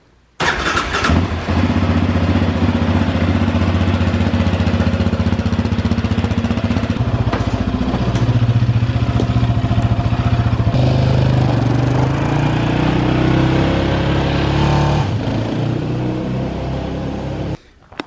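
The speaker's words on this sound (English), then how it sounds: "Cold start on the Raptor." A Yamaha Raptor ATV engine left sitting for a couple of weeks cranks and catches on a cold start, then runs on as a loud, steady, close idle that shifts pitch slightly midway, with no talking.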